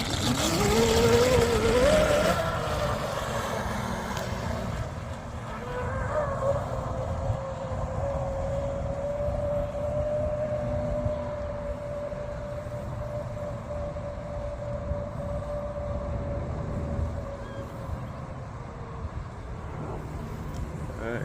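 A Proboat Blackjack 24 RC speedboat runs its electric motor with a steady high-pitched whine that holds for much of the stretch over broad wash, loud at first and then continuing at a moderate level.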